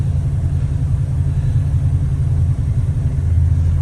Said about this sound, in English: we're driving the 50 Plymouth